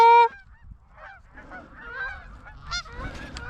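Geese honk in loud bursts at the start, then a steady chorus of honking and calls from flocks overhead continues during a goose hunt in a blizzard, with wind and rustling underneath.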